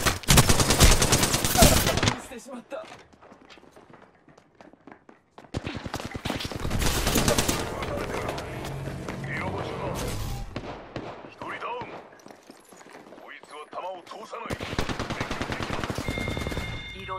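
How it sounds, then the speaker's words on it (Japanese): An R99 submachine gun fires in rapid, dense full-auto bursts in an online shooter game, with pauses between the volleys, other game sounds in the gaps and a voice speaking at times. "射撃開始。"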